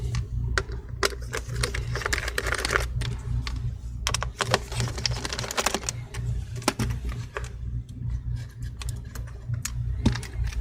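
Phillips screwdriver removing screws from a Lenovo Yoga C740 15 laptop: close, faint irregular clicks and small metallic ticks over a low steady hum, with bursts of quick tapping activity.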